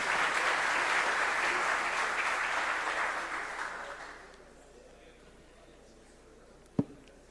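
Dense audience applause at a lecture-series event in Santa Catarina, loud for about four seconds before fading out, followed by a quiet room and one sharp knock.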